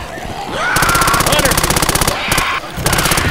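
Loud, rapid automatic gunfire in the video game Left 4 Dead as survivors fire at the Tank, a sustained machine-gun rattle with a brief pause near the end, with voices calling out over it.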